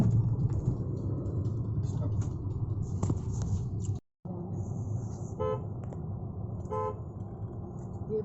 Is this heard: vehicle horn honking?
yes